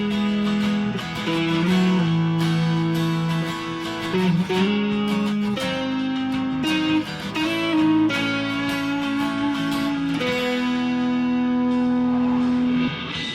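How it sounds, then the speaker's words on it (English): Lead guitar line from a song, played as a sustained melodic solo over a backing part, with bent and held notes and a light echo effect, loud and continuous with no talking. "we've got a guitar lead that's played over that"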